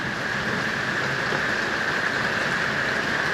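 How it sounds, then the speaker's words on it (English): Wind-driven rain falls sideways in a steady, loud, close hiss, with a constant high whistling tone over the downpour. "the rain is coming in a little bit sideways right now"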